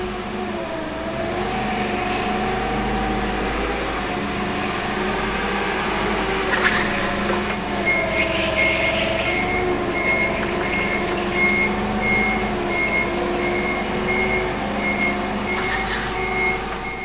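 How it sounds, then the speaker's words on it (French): Forklift reversing alarm during a pre-operation inspection: a steady run of evenly spaced high beeps from about halfway through, over a low idling engine and background hum, moderately loud and close, with no speech. "puis valider que l'alarme de recul fonctionne"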